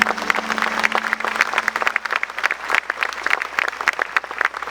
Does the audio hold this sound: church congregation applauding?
yes